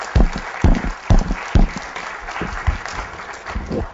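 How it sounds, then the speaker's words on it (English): Audience applause at the close of the Kynetx Impact Conference 2010, heard as several loud bursts of clapping in a pulsing rhythm, with rumbling thumps in the room. "let's get a clap for SOG."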